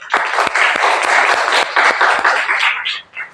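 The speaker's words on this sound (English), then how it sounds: "So, a big round of applause for y'all." Applause from a class audience at a college session, a burst of clapping with a few sharp individual claps standing out, fading off toward the end.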